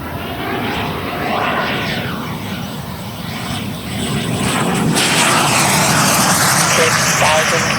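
A Black Horse Viper XL radio-controlled jet with a 100 mm WeMoTec Midi EVO electric ducted fan flies past, a steady loud rushing whine that swells and grows stronger toward the end, with a voice talking underneath.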